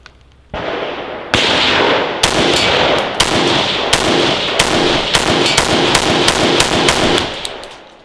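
Gunshots from a rifle firing a Lancer L5 magazine during a dirt torture test ring out close and loud, about a dozen sharp reports spaced roughly half a second apart over a steady outdoor background.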